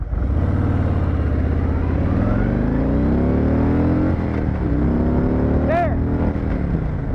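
A motorcycle accelerates from a stop to 50 at a green light, its engine revving up through the gears in rising sweeps with brief dips at each shift, loud and close, and a rider's voice heard briefly near the end.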